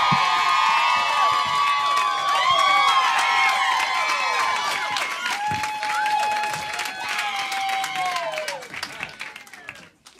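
Live concert crowd at the Bing Lounge cheering, whistling and applauding loudly, with shrill whoops over dense clapping that gradually thins and fades toward the end.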